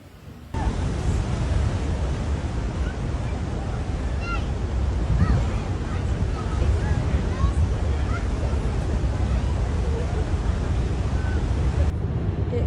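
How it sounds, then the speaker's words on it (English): Huge surf from Cyclone Alfred lashes the Gold Coast as a constant heavy roar of breaking waves mixed with strong wind buffeting the microphone, loud and unbroken throughout. "The waves are horrendous,"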